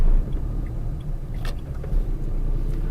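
A used car rolling over road rumble strips gives a low, continuous rumbling drone from inside the cabin, with a few soft knocks and thuds as the tyres cross the ridges.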